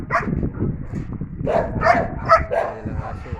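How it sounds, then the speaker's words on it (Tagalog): A large pedigree dog on a farm barks and yips in short bursts, close and moderately loud, with faint background voices. "Ayan yung alaga niya ng aso."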